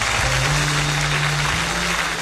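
A church congregation applauds the Lord with steady, dense clapping throughout, joined by a low sustained musical tone underneath.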